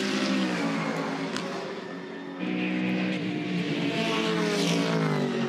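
Audi and Alfa Romeo National Sports Sedans race cars at Bathurst, a steady loud engine roar that dips briefly then swells again, sustained high-revving drone throughout.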